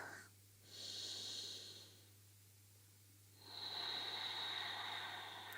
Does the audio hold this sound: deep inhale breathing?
yes